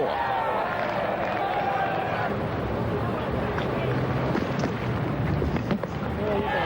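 A cricket crowd at a 1994 New Zealand versus Pakistan Test roars and cheers a boundary, a sustained, loud wash of massed voices with rising shouts, heard alongside an announcer talking.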